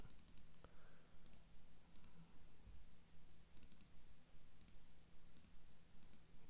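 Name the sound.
mouse clicking while highlighting text in Google Docs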